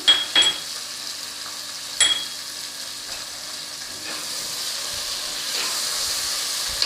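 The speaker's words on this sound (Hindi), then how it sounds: "थोड़ा सा इसको भून लेंगे इसके साथ।" Mutton sizzles in a pot with onions, whole garam masala and ginger, a low steady hiss with a couple of sharp utensil clatters near the start.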